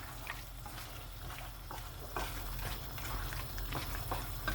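Tomatoes added to a pan of white chicken handi curry fry with a steady sizzle, broken by repeated stirring scrapes, and grow slightly louder midway.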